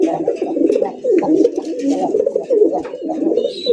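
Domestic country pigeons on a farm coo continuously nearby, a steady low, rolling murmur of overlapping calls with no speech.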